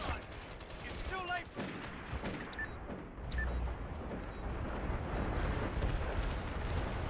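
Artillery fire mission in the military shooter MAG: a dense barrage of booming blasts and rumbling impacts, with a sharp burst near the start and then sustained heavy rumble from the strike.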